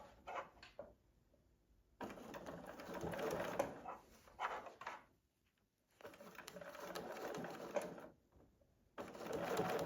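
A sewing machine stitches a curved seam on a fabric oven mitt, running in three steady whirring bursts separated by short pauses when the needle stops.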